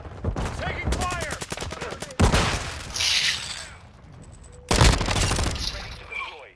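Rapid bursts of automatic gunfire and sharp shots from the video game Call of Duty: Modern Warfare II come in several loud clusters, mixed with shouted voices and combat chatter.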